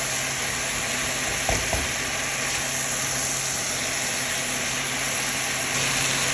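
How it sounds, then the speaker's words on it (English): Potato sautéing in a pan for soup, a steady, even sizzle and hiss that runs loud and continuous from start to finish, with a brief soft knock of a utensil early on and no voices. "So now I've had this potato sauteing for a little while."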